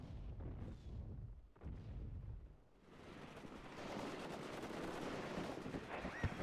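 Artillery barrages and HE bomber strikes rumble through a WARNO real-time strategy battle, with continuous dense booms and crackling impacts that swell after a brief lull and keep rolling steadily.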